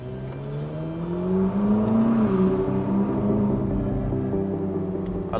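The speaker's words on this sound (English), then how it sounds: "I love that sound of the exhaust and the overrun, that burble, it's amazing." A Ferrari 458 Spider's exhaust burbles on overrun in Singapore, a deep steady drone that swells and then eases, with faint crackles layered over the engine tone, close and without voices.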